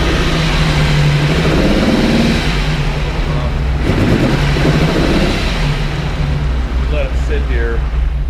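A 1973 Lamborghini Espada Series III engine idles while warming up, a loud, close, uneven rumble with a slightly lumpy beat and a mild swell partway through, with someone speaking over it.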